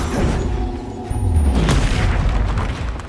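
Bombarda spell detonating in Hogwarts Legacy: a single deep, loud boom with a rolling low rumble and a brief crackling tail.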